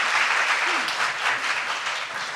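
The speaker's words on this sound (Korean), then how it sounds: "우리 찬양을 받으신 주님께 감사와 영광의 박수 드립니다." Church congregation applauding during a Sunday worship service, a steady, dense wash of clapping from many hands that holds for the whole stretch without pause.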